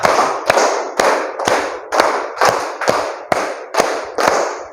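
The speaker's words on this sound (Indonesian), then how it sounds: "2 kali tepuk 5." Around ten loud, bright hand claps fall at an even, quick pace, each one distinct and close, with a short echo after each and no voices in between.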